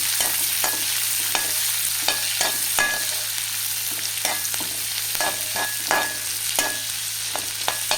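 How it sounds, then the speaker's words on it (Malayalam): Ginger, garlic, green chilli and onion stirred and frying in a pan for paneer butter masala, with a steady sizzle under repeated scraping spoon strokes in an irregular rhythm, close and moderately loud, no voices. "ഇതിലേക്ക് ഇഞ്ചിയും വെളുത്തുള്ളിയും പച്ചമുളകും ഇട്ട് ഇളക്കണം കേട്ടോ"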